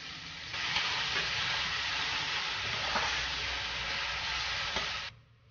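Chopped onions land in hot oil with fennel seeds and cumin and sizzle loudly at once. A steady, close frying hiss carries on with faint stirring taps until it cuts off abruptly.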